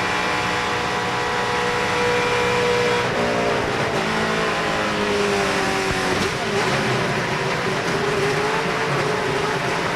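ARCA race cars roar around the banking at Daytona International Speedway during a crash, a loud continuous engine drone with shifting pitch and a faint screech, heard without talk.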